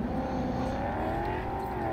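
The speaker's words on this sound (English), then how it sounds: "My engine's not going to last too much longer either." A car engine in the video game Cyberpunk hums and revs steadily at close range for about two seconds, with no speech over it.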